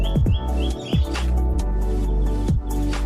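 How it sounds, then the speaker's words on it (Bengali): Birds chirp outdoors around a rural house in short, bright calls scattered over a constant low background rumble, mixed with sharp nearby knocks. "চারিদিকে পাখির কোলাহল খুবই সুন্দর লাগছে"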